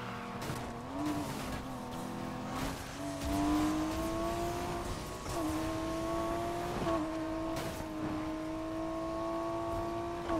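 Car engine in Need for Speed Heat revving hard, its loud, sustained whine climbing and dipping in pitch through several gear-like shifts, with faint scraping and tire noise underneath.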